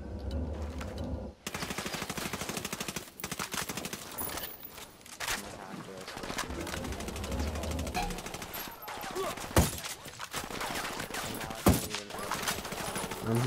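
Rapid automatic gunfire bursts from a shooter video game, loud and near, with dense bursts and a few sharp single shots across the whole stretch, mixed with game sounds and players talking.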